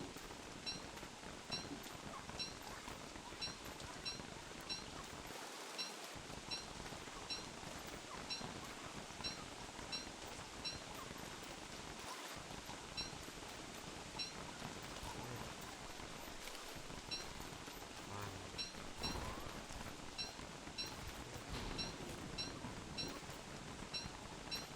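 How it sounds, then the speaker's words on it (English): Heavy rain in the video game Don't Starve Together, a steady dense hiss of falling drops running the whole time with faint game sounds underneath. "It's raining pretty hard."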